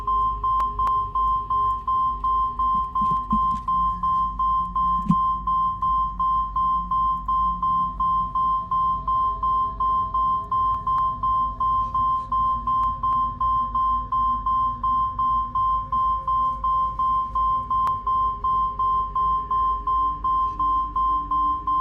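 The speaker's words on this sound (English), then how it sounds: "I apologise for the beeping." A steady electronic beep repeats rapidly and evenly at one pitch throughout, loud and continuous over a low hum in Assassin's Creed 2 gameplay.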